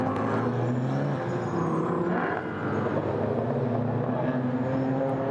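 GT4 Porsche race car at speed on the Budapest circuit, a loud continuous engine roar holding steady for several seconds with a slight dip midway, close and dominant over faint background commentary.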